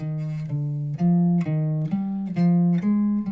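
Seven plucked guitar notes step upward one at a time through the harmonic minor scale in thirds, each ringing briefly before the next, in an even, moderate rhythm.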